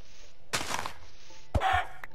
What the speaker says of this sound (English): Ah, yes, another chicken.